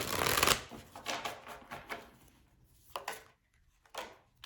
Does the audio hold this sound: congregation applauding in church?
no